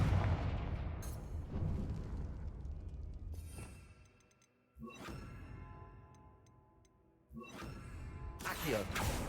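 Confringo fire spell blasts in the game Hogwarts Legacy, three sharp booming explosions spaced a few seconds apart, each decaying into a rumbling tail.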